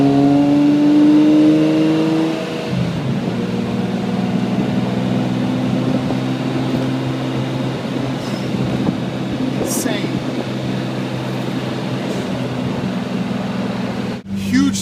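Car engine drones steadily from inside the cabin, revving higher at the start then settling into a continuous loud hum while driving, with a brief dip near the end.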